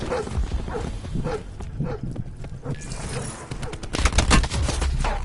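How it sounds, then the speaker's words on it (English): Dogs bark in the Call of Duty: Black Ops 4 multiplayer beta, amid dense, loud bursts of gunfire and explosions, with the barking partly masked by the battle noise. "I hear the damn dogs, man."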